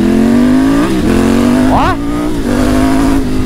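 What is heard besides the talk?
new motorcycle revving as friends ride it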